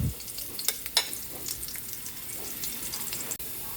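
Ginger and garlic sizzle in hot oil for coconut-milk tilapia, a steady close frying hiss with a few soft clinks and stirring scrapes of the utensil through the pan.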